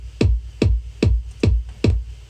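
A punchy kick drum sample from a Splice pack, crushed with added transients, striking five times at a steady pace, each hit boomy with a sharp attack and sitting alone.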